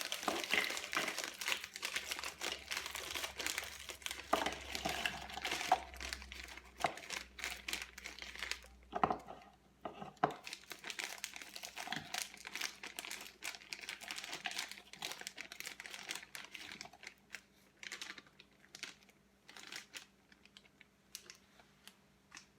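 Crinkling of a smoothie mix package being handled for a NutriBullet smoothie, dense irregular plastic rustles and crackles close by for most of the stretch, with no talk.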